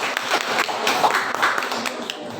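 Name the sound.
audience applause for debate candidates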